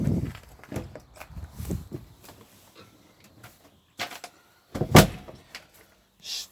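Footsteps thud on the floor of a Swift Archway Barnwell caravan as someone steps inside. A series of close, irregular steps and knocks is followed by a pause, then a sharper bang like a door or cabinet, with no talking.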